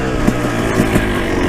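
A 12-year-old two-stroke dirt bike accelerates in a short, loud, close burst of raspy engine noise.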